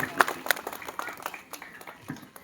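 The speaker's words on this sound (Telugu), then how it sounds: "ఒక్కసారి చప్పట్లతో స్వాగతిస్తా ఉన్నాం." Scattered applause from a modest outdoor crowd greeting a guest onto the stage at a village rangoli competition, with a few sharp claps near the start, then thinning, uneven clapping and faint voices in the background.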